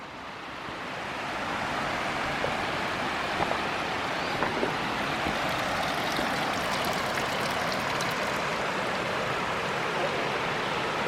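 Locust Creek near the Walcott Covered Bridge in Bracken County, Kentucky rushes steadily, a close, continuous broadband wash of flowing water that swells in over the first couple of seconds and holds even.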